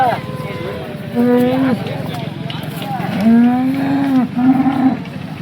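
A top-quality cow at the Sangola cattle market in Maharashtra lets out several long, drawn-out moos, loud and near, over a steady market din with people talking.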